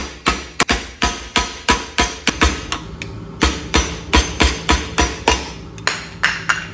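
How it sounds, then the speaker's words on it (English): An impact wrench hammers on a wheel hub nut during hub removal on a 1997 Mustang Cobra, giving a loud, close series of sharp rattling blows in rapid bursts, roughly two per second, running throughout. "Just use this impact and pop this loose."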